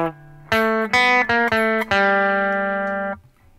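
Guitar picks measures 3 and 4 of the Super Mario Bros. theme: a quick run of short, crisp notes, then a final note left to ring and fade. It is close and clean, with no voices.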